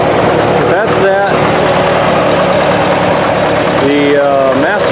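A Massey Ferguson 202 Work Bull backhoe with a Continental Z134 engine, Davis loader and Pippin backhoe idles steadily and loudly throughout, a continuous low rumble running under someone talking.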